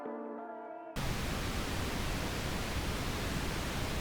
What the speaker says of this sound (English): One of pink noise, where I cut some of the high frequencies to create the low rumble of the wind